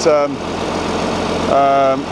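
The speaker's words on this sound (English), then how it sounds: "still sounds quite nice. The hole in the exhaust anyway, doesn't it?" A tractor engine with a hole in the exhaust and a new stack runs at a steady, loud idle, with a voice talking over it.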